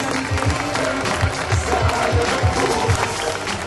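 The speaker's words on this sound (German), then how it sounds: "Applaus für Christoph Kosiol." Broad crowd applause in a hockey arena as player Christoph Kosiol is introduced at the Saale Bulls team presentation, loud and sustained, with a rhythmic low thumping of drums or stomping underneath.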